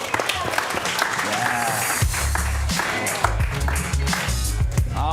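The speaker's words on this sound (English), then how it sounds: "Keep that applause going for all of your cast coming to the stage" Loud audience applause for the cast coming to the stage during a live show, clapping sustained under booming stage music with a bass beat kicking in partway through, and some voices mixed in.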